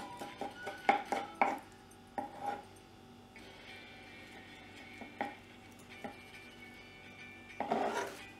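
A knife cuts through the tail of a sardine during cleaning on a board: several sharp close chopping knocks and scrapes in an irregular rhythm, with quieter rubbing between strikes and no voices.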